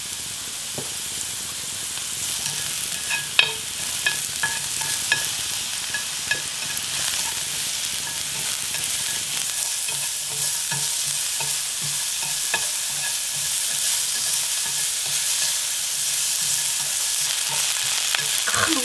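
Paprika stir-frying in a large frying pan with salt and garlic, a steady close sizzle with soft stirring scrapes and occasional clicks of the utensil against the pan throughout.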